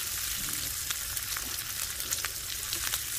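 Honeycomb-scored pork belly sizzles and spits steadily on a grill at a Korean-style outdoor campsite meal, a continuous close crackling fry with scattered pops and no talking.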